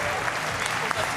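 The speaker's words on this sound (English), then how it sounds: "Round of applause to these guys." A crowd claps steadily at a DreamHack Winter 2014 esports grand final, a dense wash of applause with a voice speaking over it.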